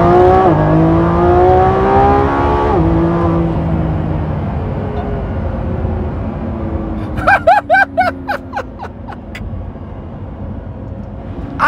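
A Lamborghini Revuelto's 820 PS V12 pulls hard in second gear, a loud rising engine note that climbs, drops at a shift, then carries on with a strained roar; sharp bursts of crackle stutter in near the end.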